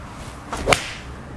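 A single sharp swish followed by a crisp, quick impact as a New Level Golf MODB-1 iron whips through and strikes a golf ball, faint and alone.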